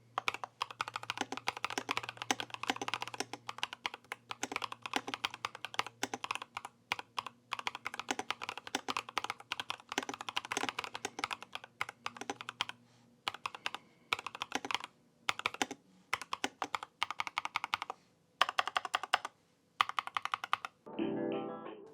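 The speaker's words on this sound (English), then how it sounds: "let's do the quick sound test of this keyboard with this linear Moonstone or Turbo something linear switches" Continuous typing on a mechanical keyboard with linear switches, soft clacky keystrokes in quick runs with short pauses, close and clear, ending with a few spaced presses.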